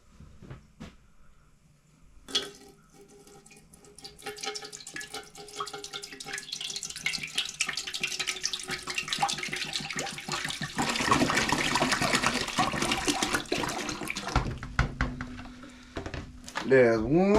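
Freshly pressed sugar cane juice is dumped into a cooking pot, making a gushing, splashing pour that builds and grows louder midway, with a clunk at the start and handling noise near the end.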